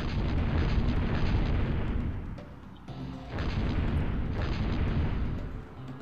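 A bomb explosion in Pandemonium, a loud sustained rumbling blast that roars for a couple of seconds, briefly drops away, then swells into another long booming roar before fading.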